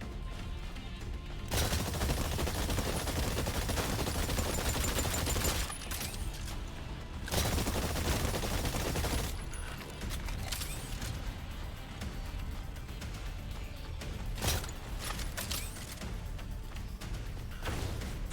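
Sustained gunfire at targets in the video game Exoprimal, loud dense bursts of rapid shots with short pauses between volleys, mixed with game effects and background music throughout.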